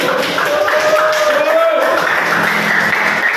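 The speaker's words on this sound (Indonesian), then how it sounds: "Tepuk tangan buat kelompok 3." Students in an Indonesian classroom guidance lesson clap for a student group, a brief burst of loud, dense applause filling the room.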